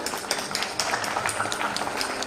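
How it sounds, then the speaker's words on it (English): An audience at a foundation day event gives a welcoming round of applause, a dense, steady wash of clapping that carries at moderate loudness throughout. "I'd like to welcome him with a huge round of applause"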